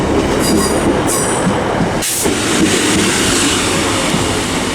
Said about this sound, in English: now arriving is for 156464